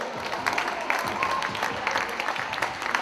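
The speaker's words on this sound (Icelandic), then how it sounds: "Við skulum klappa og hvetja þau." Audience clapping at a children's basketball camp in Vestri, a steady dense patter of many hands filling a gym, with scattered voices mixed in.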